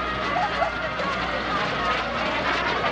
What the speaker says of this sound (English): That's Tom Larkin, the SubSonex Mini Jet.